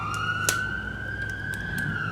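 An ambulance siren passes outside near downtown, rising slowly and holding a long, sustained wail over steady traffic rumble, with faint clicks and no talking.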